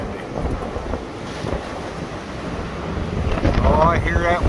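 A strong gust in an Ohio windstorm roars into the microphone, rising and buffeting harder toward the end, loud and close, with someone speaking briefly over it.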